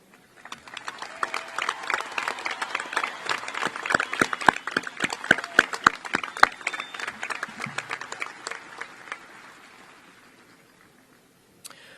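A high school graduation crowd applauds honor students, a broad wash of clapping from many hands that swells, holds steady with a few sharp nearby claps, then fades away; no voices.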